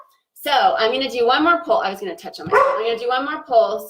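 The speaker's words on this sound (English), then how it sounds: "Sorry about the barking." A dog barks repeatedly in quick, yappy bursts close by, the barking overlapping a person talking continuously.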